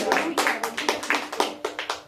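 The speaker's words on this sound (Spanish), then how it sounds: "Palmas a Cristo, hermano." A church congregation clapping hands in praise, a steady rhythmic series of about a dozen sharp, loud claps in quick succession, with voices faintly underneath.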